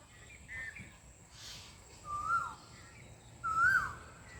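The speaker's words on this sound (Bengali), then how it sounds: "এখন দেখতে পাচ্ছেন যে কোকিল ডাকছে।" An Asian koel calls twice, two rising whistled notes spaced about a second and a half apart, fairly faint against a quiet background.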